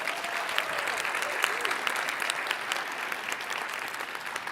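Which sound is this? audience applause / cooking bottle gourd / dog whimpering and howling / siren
audience applause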